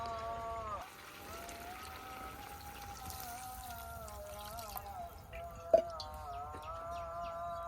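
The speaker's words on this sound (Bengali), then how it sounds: "এখন দিয়ে দিব পরিমাণ মতো ঝোল" Broth poured into a fish and leafy greens curry, a steady trickling pour lasting several seconds, with a brief clatter near the end and faint background sounds.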